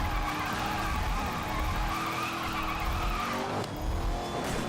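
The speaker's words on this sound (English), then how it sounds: "this may be the fastest drift I'll ever do" A Bugatti Veyron Super Sport in Need for Speed: Most Wanted (2012) drifts at high speed, its tires squealing continuously over a loud engine roar throughout.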